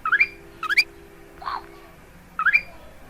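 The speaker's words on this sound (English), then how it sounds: "I like this chirp sound" Three bright, short synthesized chirps from a platformer game, each a quick rising-falling electronic tweet, evenly spaced with a softer blip in between, loud and clean against near silence.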